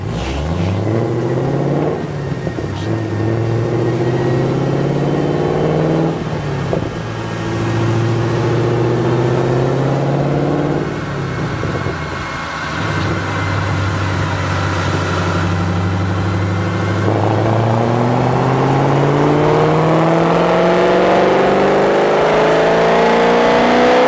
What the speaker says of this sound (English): Let's put those BBK full lengths to the test on our dyno.